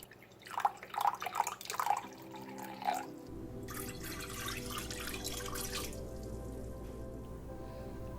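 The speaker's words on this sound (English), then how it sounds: "we're going to be putting in at least half a cup of water" Water splashes and trickles into a crock pot for chicken adobo, a few short pours followed by a steady running stream that continues to the end.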